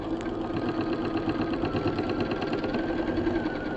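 Sewing machine stitching a quilt block, running steadily for a few seconds with a continuous motor hum and a rapid, even needle rhythm, close and fairly loud, with no voices.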